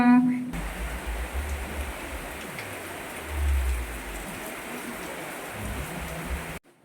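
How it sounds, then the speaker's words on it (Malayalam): Heavy rain pouring down in a steady, dense hiss that fills the whole stretch, with a low rumble swelling now and then beneath it. "ഇവിടെ മഴ നന്നായി തകർത്ത് പെയ്യാണ്"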